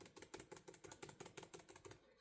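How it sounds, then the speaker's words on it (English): Quick, evenly paced clicks of typing on the clicky keyboard of a 2024 Asus ROG Strix G16 laptop, about a dozen keystrokes, close and soft. "it's very clicky keys, once I just start typing,"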